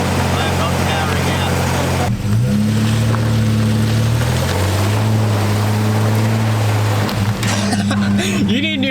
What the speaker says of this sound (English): Throw in the clip of me trying to drive up a small hill.